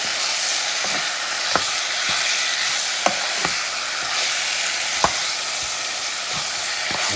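Lamb chunks fry with a curry flavor mix in a pan, a steady broad sizzle with sharp utensil scrapes and clicks as they are stirred, close and alone with no talk.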